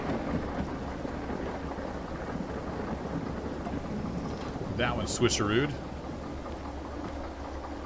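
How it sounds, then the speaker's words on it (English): A thunderstorm in the Derail Valley train simulator game: steady rain hiss and low rumbling thunder run throughout, with a brief crackle partway through and a voice speaking over it. "We're in a lightning storm"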